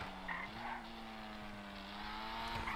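A Nissan 370Z in GTA Online idles and lightly revs through small exhaust pipes, a steady low engine drone with slight pitch wavers and a faint background hiss, continuous and close.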